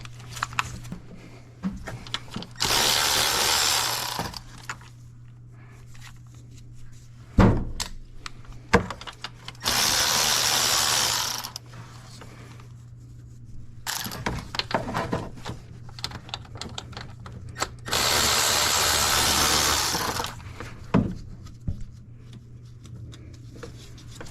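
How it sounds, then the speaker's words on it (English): Ratchet work removing 10mm bolts on the 3.0L engine of a Mercedes/Dodge Sprinter van: three bursts of quick ratcheting clicks, a few seconds each, with scattered knocks and clunks between them and a steady low hum throughout. "So now I'm gonna remove these 10mm bolts over here."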